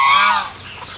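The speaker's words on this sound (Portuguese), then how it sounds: "E esses gansos aqui, eles são bem bravos" A goose gives one loud, close honk that fades within a second, heard alone among a flock of geese on a farm.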